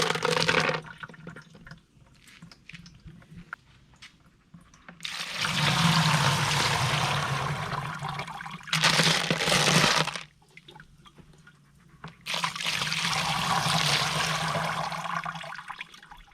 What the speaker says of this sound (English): Rinse them off one last time.